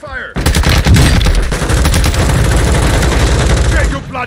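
Sustained automatic gunfire in Warzone 2 on Ashika Island: loud, dense, rapid bursts rattle continuously for several seconds, close and overpowering, with a brief voice callout beneath.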